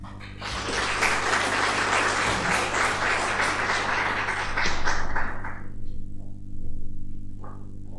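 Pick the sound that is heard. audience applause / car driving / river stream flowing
audience applause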